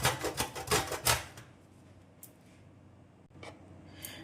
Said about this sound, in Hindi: तो चलिए सबसे पहले हम नारियल को कद्दूकस कर लेते हैं